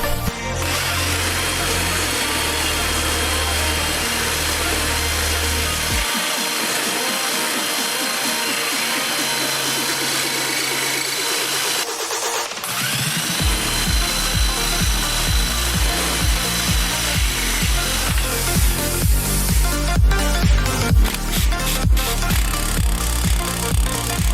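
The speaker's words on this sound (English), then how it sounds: "I'm going to go ahead and use a Sawzall and cut 2 relief cuts in it" A Sawzall reciprocating saw cuts relief slots into a suspension part on a 280Z: a loud, sustained buzzing rasp close by, pausing briefly midway before resuming with harsher, rattling strokes.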